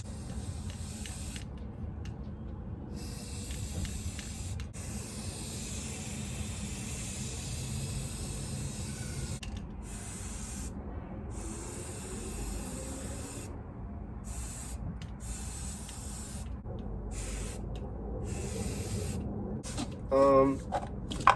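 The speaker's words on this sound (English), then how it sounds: "next I get my black spray paint and I do the eyes, the mouth, and then the words" Repeated bursts of black spray paint hissing from a can onto clothing, each lasting a second or two and separated by short pauses, close to the microphone, with a faint rattle near the end.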